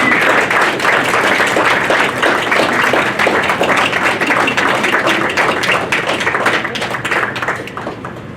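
Dense, steady applause from an audience honoring award winners fills the room, a continuous wash of many hands clapping that tapers off slightly toward the end.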